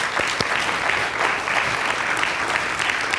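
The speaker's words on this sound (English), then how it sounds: "let's give them a round of applause" An audience gives students from an early college a round of applause at a State of the District event, with loud, sustained crowd clapping and a few sharper individual claps near the start.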